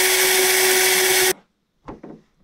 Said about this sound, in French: Donc je vais percer là.